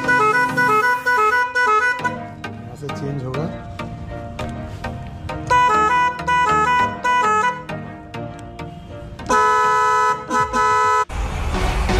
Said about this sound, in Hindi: सो फाइनली गाइस हॉर्न लगाना कंप्लीट हो गया। साउंड सुनिए